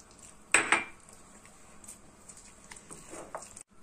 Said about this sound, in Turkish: Şimdi 4. yumurtayı döküp güzelce karıştırıyoruz.